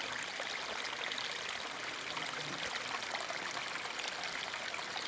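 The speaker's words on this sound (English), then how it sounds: "we have this nice little creek. So I'd let people enjoy that just a little bit. You can hear it and you can see it." A small creek runs down a little ravine on a Mission Peak hike, giving a steady, close rush of flowing and trickling water that never breaks.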